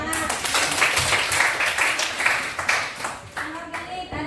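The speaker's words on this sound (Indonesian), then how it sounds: "Oke, tepuk tangan." Children in a classroom clap their hands together in a lively, slightly uneven burst that fades toward the end, with a teacher's voice heard briefly among them.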